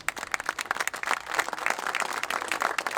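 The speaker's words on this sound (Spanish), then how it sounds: "Fuerte aplauso." Crowd applause at a tribute ceremony, steady dense clapping from many hands throughout, fairly close and even in loudness.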